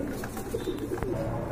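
A pair of cream-colored Banja pigeons kept for sale, giving soft, close coos in short repeated phrases with no talk over them.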